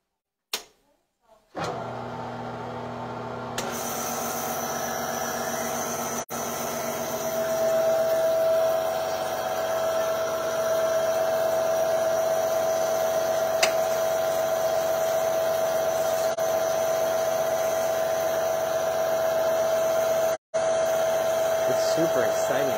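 A WAZER desktop waterjet cutter runs with a steady, loud mechanical whine and hiss that starts after a few seconds of quiet and continues without a break, briefly cutting out near the end.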